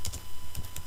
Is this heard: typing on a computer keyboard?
yes